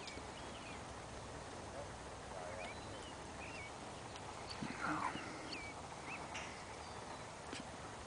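Faint hooves clip-clop on the ground at a distance, with birds chirping now and then against a steady outdoor hiss.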